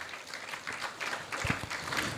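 A hall audience at a Hindi religious discourse claps faintly and unevenly, with scattered individual claps rising briefly midway before thinning out again.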